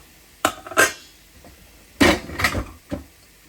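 Metal lid handled and set onto a pot of vodka pasta sauce on a cooktop, several sharp clanks and rattles in two clusters with a lighter tap after, close and alone.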